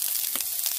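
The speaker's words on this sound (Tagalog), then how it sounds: "So just fry it and put 3 tablespoons of water." Asparagus frying in olive oil in a pan, a steady close sizzle with brief bursts of crackle, continuous and alone with no talk.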